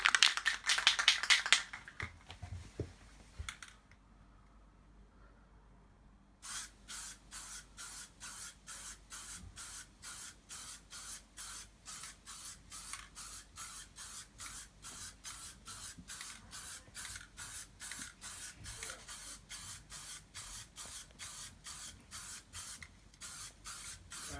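PlastiKote spray paint hisses onto a VW T5 van dash fascia during a DIY camper conversion, starting with a few longer bursts and then a long run of short, evenly spaced puffs in a rapid steady rhythm, close up.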